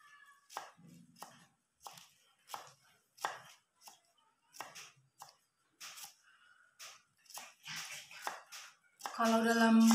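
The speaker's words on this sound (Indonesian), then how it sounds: "Kita mengiris tipis-tipis." Thin slicing of aged Dayak onion bulbs with a knife, a steady series of crisp, close chops spaced about half a second apart, with a brief louder noisy burst at the very end.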